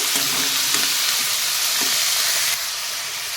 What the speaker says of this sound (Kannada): ಟೊಮೆಟೊ ಕೂಡ ಹಾಕ್ತಾ ಹಾಕ್ತಾಯಿದ್ದೀನಿ ಇದನ್ನು ಕೂಡ ದಪ್ಪ ಕಟ್ ಮಾಡಿದ್ದೀನಿ ನಾನು ನೋಡಿ ಇದು ಈಗ ಚೆನ್ನಾಗಿ ಫ್ರೈ ಆಗಬೇಕು